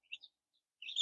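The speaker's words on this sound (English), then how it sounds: "They're very curious little birds." Baby chicks and turkey poults in a brooder give faint, high peeping chirps, two quick peeps and then a brief cluster after a short silence.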